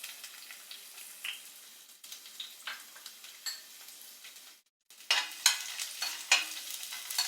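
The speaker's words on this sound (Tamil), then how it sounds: "இப்போ அதில் பூண்டு போட்டுடலாம்." Garlic sizzling in a light layer of oil in a pan, with steady frying crackle, a brief silence, then louder bursts of sizzle and stirring scrapes near the end.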